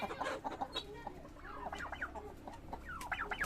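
Hens clucking inside a farm chicken shed, several soft overlapping clucks and short calls at close range over a low background hum.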